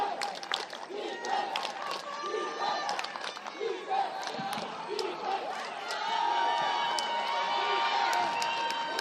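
A sideline crowd at an 8th grade football game between Ames High and Indianola cheers and shouts, with a steady roar of many voices and whistle-like tones, heard from near the field.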